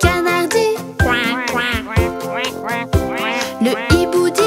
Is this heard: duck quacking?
yes